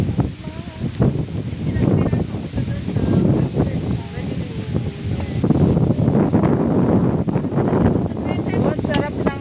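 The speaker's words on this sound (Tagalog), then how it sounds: "Ang sarap ng hangin." Outdoor wind buffets the microphone in uneven gusts, loud and rumbling, while several people talk and laugh nearby throughout.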